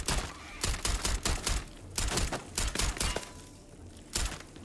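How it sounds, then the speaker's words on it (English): Rapid bursts of gunfire aimed at creatures in Starfield, short clustered volleys of sharp cracks with brief gaps between them, moderately loud and close. "I don't think shooting them does any good"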